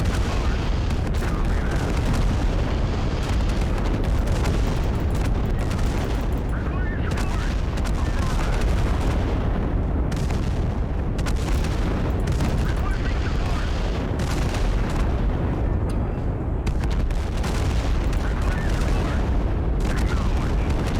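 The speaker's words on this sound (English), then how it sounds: "Yeah, they got rockets coming in." Incoming rockets explode in the war video game Total Conflict: Resistance, a dense, continuous barrage of booms and blasts with overlapping gunfire-like bursts, loud throughout without pause.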